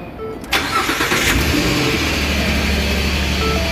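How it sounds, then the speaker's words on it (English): A Ford F150 pickup's engine cranks and fires after an electric power steering repair, a sharp start followed by a steady, loud idle close by. "let's start the engine."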